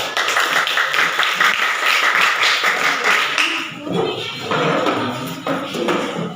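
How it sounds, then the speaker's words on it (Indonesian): Audience applauding, a burst of bright clapping for a few seconds that thins into scattered claps and murmuring voices. "Tepuk tangan dulu"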